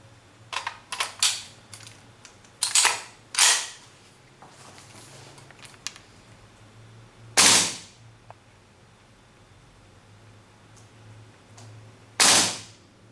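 Sharp, loud broadband cracks from an RA Tech KWA AK gas blowback airsoft rifle shooting 0.2 g BBs on green gas: a quick cluster of shots, then isolated single shots several seconds apart with quiet gaps.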